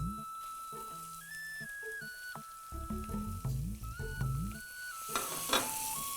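Sliced onion drops into hot oil with ginger and dried red chilli in a pan, giving a steady, moderate sizzle and crackle that swells near the end, under background music.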